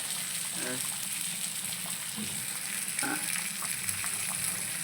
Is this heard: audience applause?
no